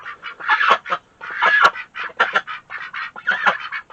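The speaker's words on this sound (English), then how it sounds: "That's the ducks. All they do all day long." A flock of ducks kept in snowy backyard conditions quacks and honks loudly and continuously, overlapping harsh calls in a busy, up-close chorus with no talking.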